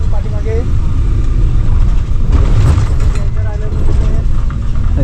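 Low, steady rumble of an MSRTC state transport bus engine heard from inside as it pulls away, with a faint rise in revving and people talking over the drone.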